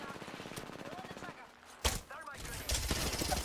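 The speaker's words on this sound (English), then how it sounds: "They're shooting rockets." Gunfire and rocket shots in the video game Apex Legends, a dense rattle of weapon fire with a sharp blast near the middle, mixed with voices talking over it.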